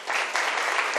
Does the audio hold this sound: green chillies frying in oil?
no